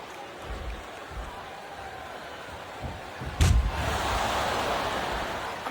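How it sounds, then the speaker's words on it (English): Crowd noise from the wrestling video game WWE SmackDown vs Raw 2007 during a First Blood match, a steady roar of fans with a loud slam or thud midway and the crowd swelling louder afterward. "Sure, I agree with what the crowd is chanting, JR, but I guess it's their right."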